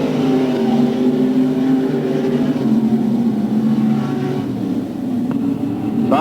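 Race cars run on a track at Gasport in 1991, with car 87S leading the field; a loud, steady engine roar with droning harmonics holds throughout, rising and shifting in pitch as the cars pass.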